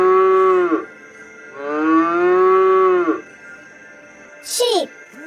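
Cattle mooing in two long, loud, close drawn-out calls with a pause between, followed by a brief higher call at the end.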